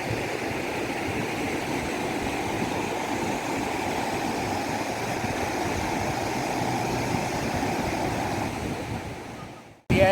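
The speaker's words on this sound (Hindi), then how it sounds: "वादी का फ्लो आप चेक करें किस कदर तेज़ है कि अपने साथ दरख्त, पत्थर सब कुछ बहा के ले जा रही है" Flash-flood water rushes through a wadi at Rustaq, Oman, carrying trees and stones, a loud continuous roar close by that cuts off abruptly at the end.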